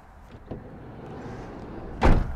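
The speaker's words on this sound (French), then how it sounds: "Fermez la porte." The door of an Adria Active Supreme camper van, a 2021 model, shuts with a single firm thump near the end, preceded by lighter handling clatter over a steady background hum.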